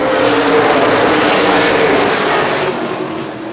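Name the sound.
ARCA/CRA Super Series race cars accelerating at green flag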